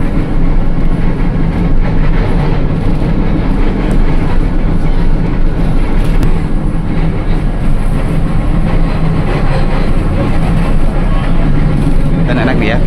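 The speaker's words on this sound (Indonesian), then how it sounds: "Ini LRT Jabodebek lintas Cibubur dari Harjamukti tujuan Duku Atas lewat Cawang." Ride aboard the LRT Jabodebek light rail on the Cibubur line, a loud steady rolling rumble with faint creaks and rattles of the car, continuous and close, with a voice talking over it.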